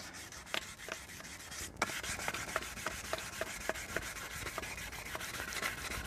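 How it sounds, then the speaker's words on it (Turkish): Sandpaper rasps against the metal spokes of a car wheel rim in repeated short strokes, fairly quiet and close, with no voices. "Tek tek kolların hepsini zımparalıyoruz arkadaşlar."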